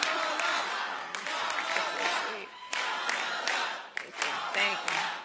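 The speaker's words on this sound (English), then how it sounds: "Applause to all of us." An audience at a party general session meeting breaks into applause mixed with crowd cheering, loud and sustained with surges and brief dips, some voices shouting within the clapping.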